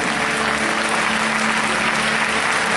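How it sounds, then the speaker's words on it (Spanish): A church congregation at a Spanish-language evangelical sermon gives a dense, sustained round of applause that stays loud and steady throughout with no break. "Denle un aplauso al Señor Jesucristo."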